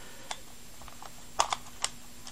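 A Skewb Xtreme 10 Colour puzzle cube by Mefferts and Tony Fisher gives a handful of light, quiet clicks as its corners are turned and settle into place, close up and spaced irregularly against a faint background hum.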